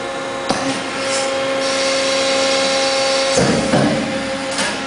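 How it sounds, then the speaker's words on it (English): A 750-ton hydraulic press powered by three 125-horsepower motors runs with a loud, steady mechanical drone and hum, with a brief knock near the start and a louder surge partway through. "Press has three 125 horsepower motors."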